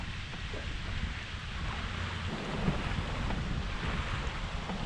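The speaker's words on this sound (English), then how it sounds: "wind is really blowing. That cold front coming in." Strong cold-front wind blows steadily across Lake Lanier in November, a constant broad rush with microphone buffeting and a faint wash of water beneath, no talking.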